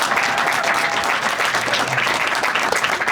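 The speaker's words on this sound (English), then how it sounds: "big round of applause for the filmmakers." Film festival audience giving a full round of applause for the filmmakers, dense and even clapping throughout.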